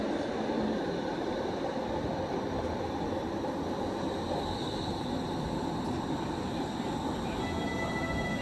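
A Toronto TTC Line 5 Eglinton light rail train rolls past nearby at Mount Pleasant Station, a steady, continuous rumble with faint high squeals over the dense low roar.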